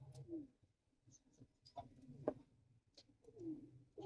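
Pigeons kept by a pigeon fancier coo softly in short, irregular phrases, faint and close in a quiet setting with no talking.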